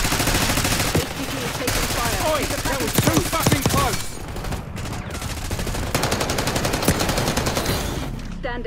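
Dense, continuous gunfire from a Call of Duty Black Ops 6 firefight, with rapid automatic bursts and sharp shots layered over loud battle noise throughout.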